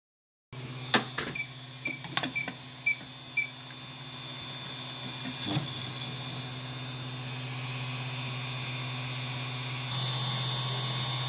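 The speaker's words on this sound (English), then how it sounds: "3D printing it out right now." A 3D printer prints a speed-limit keychain; a few sharp clicks and beeps at the start, then a steady mechanical hum with whirring stepper-motor tones that carries on to the end.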